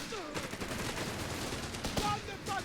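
MG42 machine gun fire in Company of Heroes 3, a Wetlands battle: a dense, continuous mid-distance rattle of automatic bursts with scattered impacts, someone talking over it.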